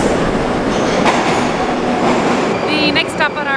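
A Moscow metro train rumbles loudly through a station with a steady clatter of wheels, then brief high squeals of wheels toward the end, while people talk faintly under the noise.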